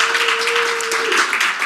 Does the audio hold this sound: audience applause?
yes